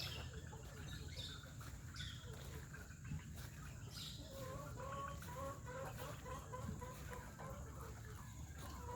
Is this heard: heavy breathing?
no